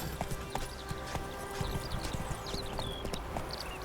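Horse hooves clip-clop in a steady walking rhythm in The Witcher 3: Wild Hunt, the hoofbeats close and clear over a busy outdoor game soundscape with faint ambient chatter.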